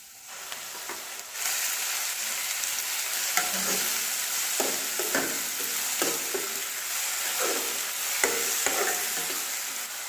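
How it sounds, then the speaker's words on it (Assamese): Ground ridge gourd paste goes into a pan of frying ginger, garlic and onion for an Assamese fish curry, then a steady moderate sizzle continues under a few scraping stirs, with no talk. "ইয়াত এতিয়া মই জিকাখিনি দি দিম আৰু জিকাখিনি মই ভালদৰে পিহনাত পিহি লৈছোঁ, এইখিনি এতিয়া ইয়াত দি দিম।"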